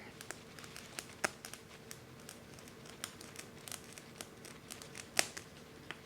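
An X-Acto knife cuts Monstera Adansonii vines with scattered sharp snips and crinkly clicks. The cuts are close and quiet and come at irregular intervals, and no one speaks.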